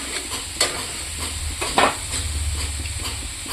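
A paste of chili, turmeric and cumin mixed with water sautés in a pan, giving a continuous close sizzle with a couple of louder scraping stirs near the start and middle.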